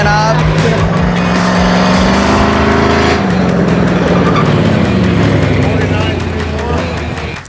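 A Dodge junkyard race car's engine revs hard and loud, close by and sustained with shifting pitch, while people talk over it.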